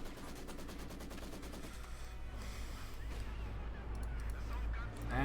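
Rapid machine-gun fire in the Company of Heroes 2 game, dense bursts of rattling shots over battle noise and a deep rumbling bed, mixed under the game's sound.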